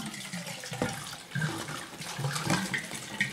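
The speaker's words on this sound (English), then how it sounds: "Just pour the whole bottle in there." A whole bottle of wine pours into a container for sangria, a steady splashing gurgle of liquid over about three seconds, close and moderately loud with no talk.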